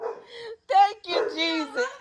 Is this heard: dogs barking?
yes